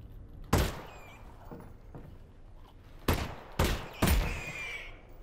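Gunfire in the VR shooter Half-Life: Alyx: a sharp shot near the start, then, after a pause, three more loud bangs in fairly quick succession, each with a short decaying tail over a low background hum.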